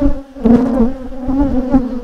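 Loud, close buzzing of many honey bees around four hives, a dense droning hum with a steady pitch that swells and wavers slightly.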